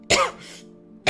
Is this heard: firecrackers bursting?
no